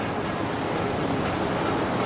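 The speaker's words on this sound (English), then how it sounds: "I mean, how windy is a typhoon?" Typhoon-force wind roars continuously with a dense, buffeting rush, loud and unbroken across the whole clip.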